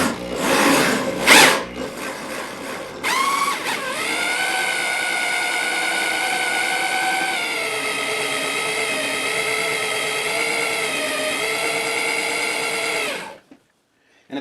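A drill's motor whines steadily for about ten seconds, driving a Wondermill Junior hand grain mill through an adapter as it grinds peanuts, then cuts off abruptly, close and loud without talking.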